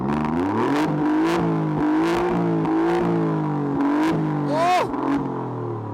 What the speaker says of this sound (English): let's have a listen to the V6 Giulia Quadrifoglio.